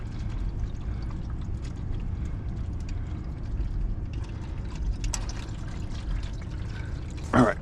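MT82 transmission fluid drains out of a gearbox after the fill valve is pulled, a soft continuous trickle and patter, with a brief sharper knock near the end.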